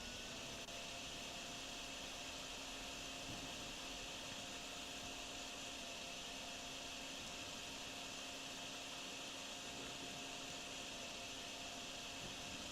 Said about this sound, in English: We'll try and help out with the vacuum.